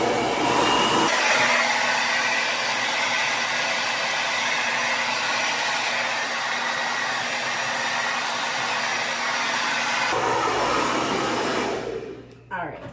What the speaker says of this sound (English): The blow dryer I use is by Babyliss. It's the Aquage edition.